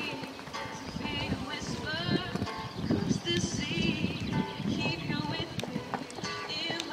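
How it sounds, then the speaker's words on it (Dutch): Hooves of a show jumper clip-clop through a 1.40 m jumping round, a continuous rhythmic thudding heard at middle distance under an announcer's voice and general arena noise. "We kijken nu naar de rit van Christian Houwen, dames en heren, met zijn paard Charmeur"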